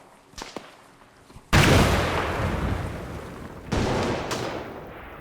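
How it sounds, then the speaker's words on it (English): A grenade goes off in a Second Korean War alternate-history shooter game, a sudden loud blast with a long rumbling tail, then a second heavy burst of explosive noise a couple of seconds later. "So I'm going to throw a grenade in here."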